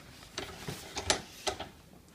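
The radiator shutter mechanism on a 1940/41 John Deere B tractor is worked by hand, giving a few faint metallic clicks and rattles in quiet, irregular succession against low background hiss.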